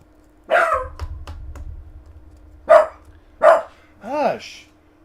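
Pet dachshunds barking indoors, a few sharp yaps and a whiny, rising bark in separate bursts over a low background hum, fairly close and loud.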